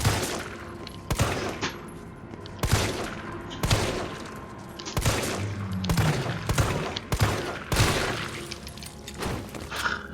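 Rapid bursts of gunfire in the video game Resident Evil 3, repeated loud volleys of shots with sharp onsets roughly every second, close and dense, with no voices over them.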